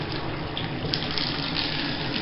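Steady rushing water pours from a tap into a sink, a continuous close splashing hiss with no pauses.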